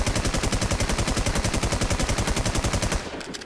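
Sustained rapid automatic gunfire in the video game WarZ as a player shoots at a boss, loud and close with a steady rattling rhythm for about three seconds before cutting off.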